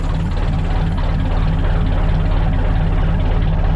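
An Isuzu NPR 4x4 truck with a custom exhaust stack and exhaust leaks idles loudly and close up, a steady deep throbbing rumble that holds even throughout with no revving.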